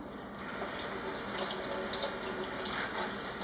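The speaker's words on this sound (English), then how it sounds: "I'm actually going to wash the rubber gloves so any dye that got on them before is off" Water runs steadily from a kitchen tap into a sink as rubber gloves are rinsed clean of fabric dye, a close, even splashing rush with no talk.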